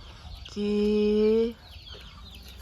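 A chicken gives one drawn-out, loud cluck of about a second, close by, with quiet background and a brief spoken word nearby.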